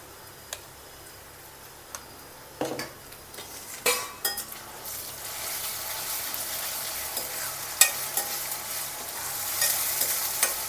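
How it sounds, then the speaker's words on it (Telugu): Onions fry with masala in a pan for crab curry, a continuous close sizzle punctuated by scattered spoon taps and scraping stirs, the hiss growing brighter toward the end, with no talking. "ఇది అయితే వేగింది కదా ఆనియన్స్ వేగిపోయినాయి మసాలా అయితే వేసుకుంటున్నాను"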